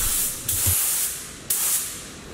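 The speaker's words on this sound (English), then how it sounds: "I'm using the same spray gun and the same air pressure. I'm going to spray two coats of clear over the parts" A spray gun lays 2K clear coat over car parts in two sustained, loud hissing bursts separated by a brief pause, close and steady with no talk.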